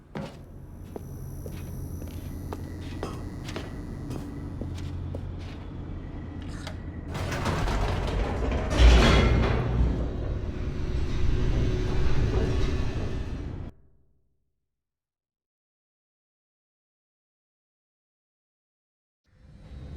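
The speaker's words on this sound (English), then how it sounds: "The elevator raced downward, plummeting towards an unknown fate." A game elevator in The Stanley Parable Ultra Deluxe rumbles and clanks steadily as it descends, swelling into a louder mechanical surge mid-ride before cutting off into silence.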